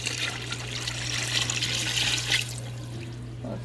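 Water pouring from a tap into a pot for menudo broth, a steady splashing gush over a low electrical hum, tapering to a thinner trickle near the end, with no talking.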